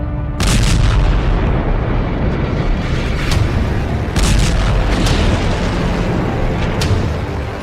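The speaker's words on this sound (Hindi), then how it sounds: "एक के बाद एक धमाके हो रहे हैं।" A series of heavy booming blasts from Israeli strikes on Beirut, several in succession, each a sharp burst over a continuous rumbling roar.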